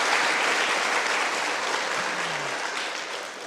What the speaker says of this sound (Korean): 우리 하나님께 또 찬양대에게 힘찬 박수 한 번 더 주시기 바랍니다